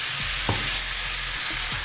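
Tuna frying in a hot pan while being stirred for samosa filling, a loud, dense, continuous sizzle with a few soft scraping strokes of the spoon, close and without talk.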